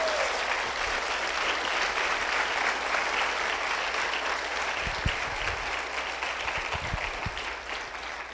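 Congregation in a church claps steadily for several seconds, a dense, even roar of applause with a few low thumps midway, tapering off slightly at the close.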